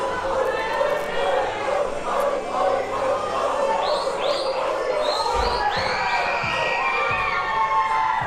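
Crowd at a live wrestling show cheering and shouting in a steady loud roar, with whistles and higher yells rising above it, while voices talk over the top.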